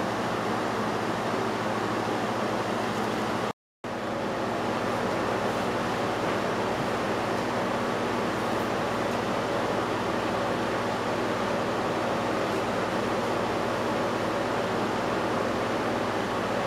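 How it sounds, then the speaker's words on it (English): A fan blowing onto a heated, stirred ruthenium complex solution during evaporation: a loud, steady broadband whoosh with a constant low hum, cut by one brief dropout near the start, no talk. "I'll position a fan blowing onto it so that we get a nice fast evaporation"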